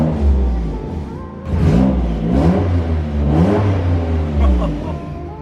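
Close, loud revving from an 800 HP Nissan GT-R with an exhaust leak: several repeated throttle blips rise and fall with a raspy, uneven drone, and a voice talks over it briefly.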